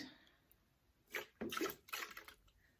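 Water splashing and sloshing in a bowl as room-temperature water washes butter churned from whipped cream in a kitchen, a few wet swishing bursts close by, loudest in the second half.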